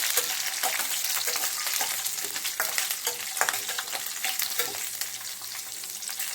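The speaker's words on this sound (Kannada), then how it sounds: "ಮೆಣಸಿನ್ಕಾಯಿ ಹಾಕ್ಕೊಂಡು ಚೆನ್ನಾಗಿ ಫ್ರೈ ಮಾಡ್ಕೊಳ್ಳಿ." Green chillies and garlic fry in a pan for a sorekayi sambar, giving a continuous close crackling sizzle broken by occasional stirring scrapes.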